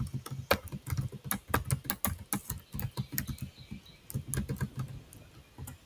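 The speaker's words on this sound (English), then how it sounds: "Let me type that in for you." Rapid, uneven clatter of keys on a computer keyboard as a web address is typed, close and clear with no voices, in bursts of quick taps and brief pauses.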